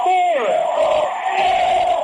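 Fans at a 1A girls state semifinal basketball game cheer in a loud, sustained roar, topped early by a rising shout, then holding steady to the end.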